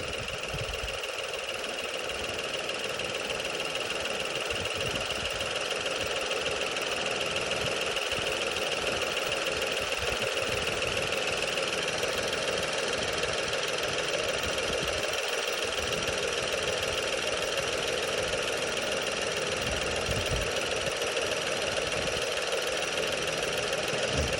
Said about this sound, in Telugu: మనం వితిన్ మినిట్స్లోనే ఆ ఇంజిన్ యొక్క నాయిస్ వాల్యూస్ మనం అబ్జర్వ్ చేసే ప్రయత్నం అయితే చేద్దాం